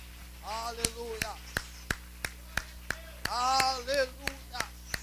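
Rhythmic congregational clapping at a Brazilian church prayer service, steady single claps about every half second under a voice that chants and sings over them.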